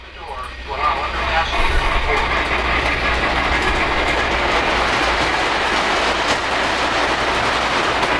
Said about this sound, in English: we should be able to reverse up the grade with the Polar Express freight train